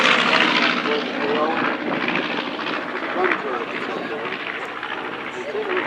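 B-25 bomber engines at a WW2 weekend parade, a broad continuous propeller-engine drone holding steady throughout, fairly close, with a voice speaking over the noise.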